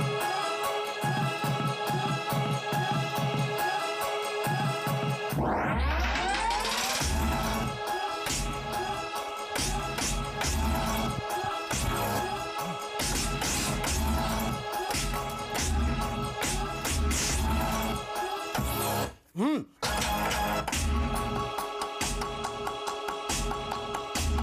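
Power stabs sequenced on music production gear, a dense, continuous electronic passage of punchy repeated hits and sweeps, with a rising swoosh early on and a brief dropout near the end, loud and busy throughout.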